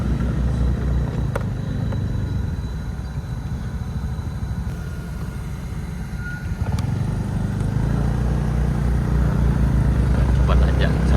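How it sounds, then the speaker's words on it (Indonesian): A vehicle engine warming up and idling on a village road on an early morning, a steady low rumble close by, with a person talking over it. "Ini mesinnya udah lagi ya dipanaskan untuk mulai."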